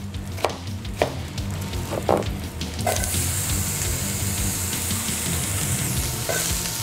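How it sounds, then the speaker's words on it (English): Quartered mushrooms with red and yellow onion sizzle as they caramelize in a pan, loud and close. A few stirring knocks come first, then the frying hiss swells and holds steady. "We're gonna caramelize some quartered mushrooms. To that, we're gonna add some onion."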